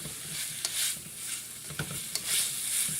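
Pirozhki filling of garlic and flour being stirred together in a hot pan, with a steady soft sizzle and occasional scraping strokes of the spoon, close and continuous.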